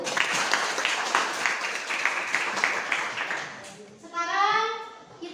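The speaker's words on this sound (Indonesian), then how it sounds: "Tepuk tangan dulu." Children in a classroom clap together in quick rhythmic bursts for a few seconds, close and lively, before the clapping stops and a voice rises briefly.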